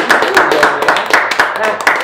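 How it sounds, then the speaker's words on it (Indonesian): Loud, close hand clapping from an audience at a piano duet competition, fast irregular claps running throughout with a voice underneath. "Baik, tepuk tangan terlebih dahulu."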